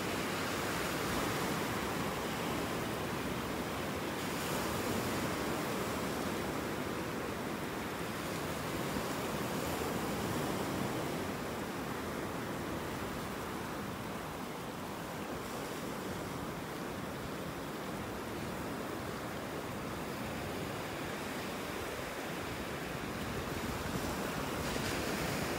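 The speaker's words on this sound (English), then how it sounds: "Now we got some nice little waves breaking on the beach today" Small waves break and wash onto a Gulf beach at Delnor-Wiggins in North Naples, Florida, a continuous, even roar of surf with soft swells and some wind noise on the microphone.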